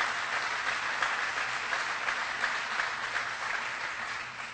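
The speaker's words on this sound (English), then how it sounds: "Please give her a big round of applause." An audience applauds a congresswoman at an event with President Obama, a dense, steady wash of clapping from a large crowd that holds for several seconds without any talk.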